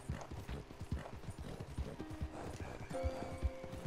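Hooves clip-clop in a steady galloping rhythm with an occasional horse whinny, from a ridden horse in a video game, close and fairly loud, with some game music and faint background voices.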